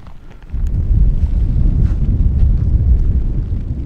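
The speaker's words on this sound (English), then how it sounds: "It is rainy, it is windy, and it's sunny." Strong wind buffeting the microphone on a rainy Scottish hillside, a loud low roaring rumble that surges in after a moment and holds steady.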